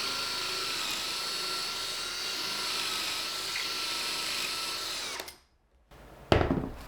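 A power drill runs steadily and close by, driving pocket hole screws into wood held in a jig while building a sliding enclosure for a Shapeoko Pro XXL CNC machine. The whine holds for about five seconds, stops abruptly, then gives one short burst.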